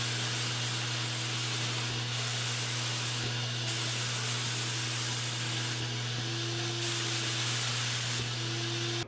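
An HVLP spray gun sprays finish onto wood, giving a steady, broadband airy hiss that runs throughout with slight pulsing and a constant compressor or motor hum underneath; no one speaks.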